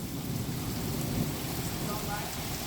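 Heavy rain pours steadily through a major supercell thunderstorm, with low rumbling thunder running under the downpour. The roar is dense and continuous, with no talk in this stretch.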